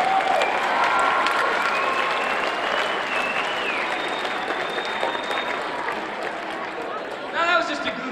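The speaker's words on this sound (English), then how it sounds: "Give them another round of applause." Sustained audience applause from a crowd at a youth success seminar, loud and steady throughout with dense clapping, easing slightly near the end as a voice briefly comes through.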